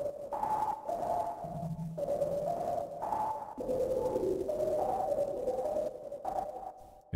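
Synthesized noise from a Kilohearts Phase Plant soft synth runs through a phaser and reverb, giving sweeping, whooshing tones that rise and fall in pitch over a steady hiss. It plays alone and continuously, with no talking.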